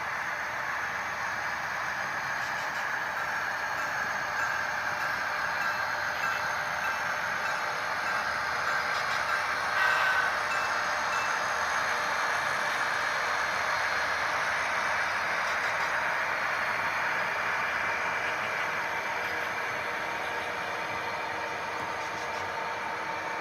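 A model train led by SD45R, SD40T-2 and SD45T-2 locomotives rolls on a layout with a steady hiss-like rumble and faint continuous clatter, even and unbroken for the whole stretch.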